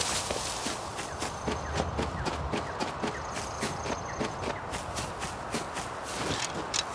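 Horse galloping in the survival game Rust, fast, evenly spaced hoofbeats thudding close by for the whole stretch, with no talking.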